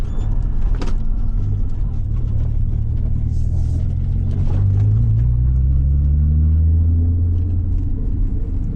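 A 1993 Nissan 300ZX slows for a U-turn, its engine a deep, loud rumble from inside the car that dips and rises as the revs change, with a few light knocks, and no talk.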